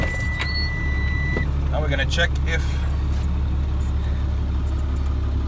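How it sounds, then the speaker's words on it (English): A truck engine idles as a steady low rumble throughout, with faint clicks and jingles near the cab while someone speaks over it. "we start the engine"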